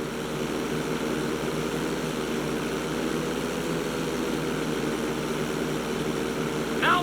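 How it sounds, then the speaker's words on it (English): Steady propeller plane engine drone in GTA 5 as the aircraft flies and rolls, a continuous even hum with a broad airy whoosh layered over it, holding constant throughout. "Go ahead and level out the plane again."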